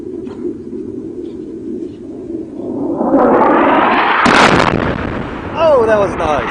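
A bomb blast strikes a field in Afghanistan, heard from a distance as a building rumble that swells into a loud explosion, followed by birds calling as the noise settles.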